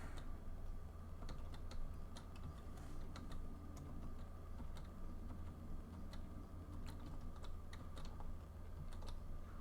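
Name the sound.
playing a driving game on a computer keyboard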